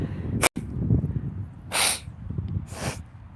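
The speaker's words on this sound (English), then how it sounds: "I've been needing to blow my nose this whole time." A person blows their nose in a few short, forceful bursts, with a brief sharp snort near the start and two longer breathy honks, close and fairly loud over a steady low room rumble.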